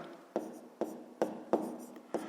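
Pen or pencil writing numbers by hand for a fifth-grade maths exercise, a run of five short, distinct scratchy strokes at an even pace, close and fairly quiet, with no talking.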